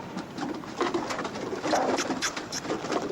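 U.S. Army Signal Corps pigeons cooing, several soft overlapping coos and throaty burbles from birds close by, continuous and moderately quiet.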